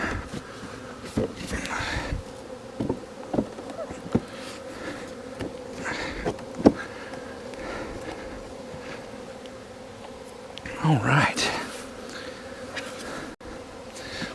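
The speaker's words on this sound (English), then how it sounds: "We have got our bees transferred over. A lot of them flying around." Swarm of honey bees flying around a hive just after being transferred from a cooler swarm trap, a steady close buzzing drone throughout with brief louder passes near the end; a person speaks briefly.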